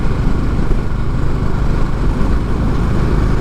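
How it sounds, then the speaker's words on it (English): Engine of a Honda Highness CB 350 motorcycle pulling two heavy riders, a steady loud low rumble with constant throb and wind, no pauses and no voices. "The bike has enough torque to pull the both of us heavyweights."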